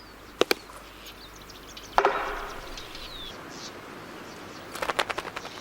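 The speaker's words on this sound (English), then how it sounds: "It's a Magellanic Woodpecker, one of the largest of all woodpeckers" Magellanic woodpecker, one of the largest woodpeckers, in forest: a sharp double knock near the start, a loud strike at two seconds, then a quick burst of rapid drumming taps near the end, with faint birdsong between.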